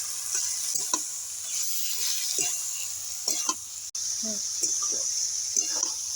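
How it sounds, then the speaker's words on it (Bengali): Water lily stems frying with onion in a pan for a shrimp dish, a steady close sizzle with intermittent stirring scrapes and taps, no talking. "দিয়ে শাপলাটা পেঁয়াজের সঙ্গে ভালো করে একটু ভেজে নেব"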